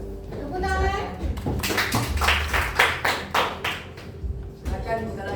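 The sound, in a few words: class clapping hands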